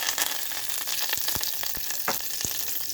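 Green chili, black mustard seeds and curry leaves sizzle and crackle steadily in hot white oil, loud and close, with sharp pops breaking through the continuous hiss.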